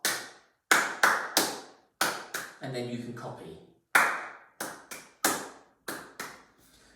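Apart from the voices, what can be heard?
hand clapping a rhythm exercise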